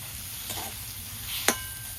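Diced potatoes go into a pan of lightly fried chopped onion in mustard oil, giving a soft sizzle and a couple of sharp stirring knocks over about two seconds.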